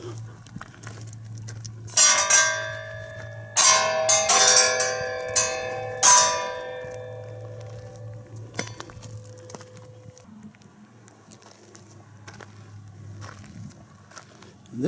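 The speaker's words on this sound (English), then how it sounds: "is a chime" An outdoor metal chime art piece at a car-sculpture site rings out in several clear, resonant strikes whose tones linger and fade, with a low hum underneath and faint footsteps nearby.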